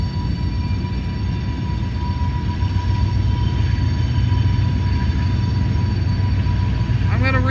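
A BNSF freight train rolls past in a steady, continuous rumble and clatter of wheels on rails, with a brief high wheel squeal near the end.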